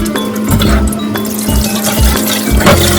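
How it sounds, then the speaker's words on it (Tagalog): Water pours and splashes steadily as washed minced beef drains through a strainer, a loud, close, continuous wash of liquid. "I-drain ko lang ito gamit ang strainer."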